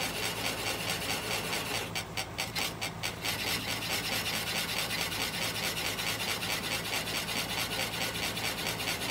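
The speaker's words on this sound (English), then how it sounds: "Pulling out my spindle detail gouge. Just going to work on what's left of that nub." Steady scraping hiss of a spindle detail gouge cutting down the remaining nub on a 10 1/4-inch apple wood bowl spinning on a lathe, continuous and close, with a short fluttering patch early on.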